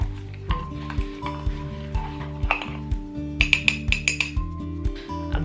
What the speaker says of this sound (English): you want to mix it really well until it's all combined